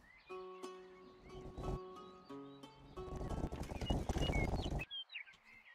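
Horse hooves clip-clopping as a rider sets off in the video game Rustler, a steady clattering trot mixed with game music, a whinny and bird calls, with the hoofbeats growing louder and busier before ending abruptly.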